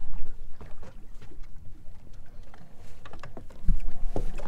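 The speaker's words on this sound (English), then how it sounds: "We got the trolling motor," A Minn Kota trolling motor holds a bay boat in place over a Florida Keys reef. Its low, steady hum runs under wind and lapping water, with a couple of dull knocks near the end.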